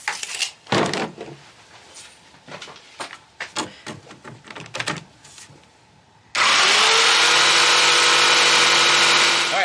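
Power tool cutting a plexiglass sheet, starting abruptly after several seconds of clatter and handling knocks, then a loud steady harsh whine that continues to the end.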